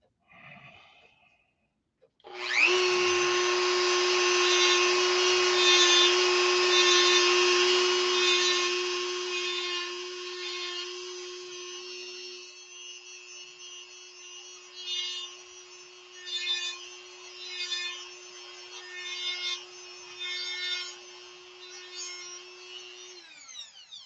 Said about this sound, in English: All you gotta do is sand the barrel.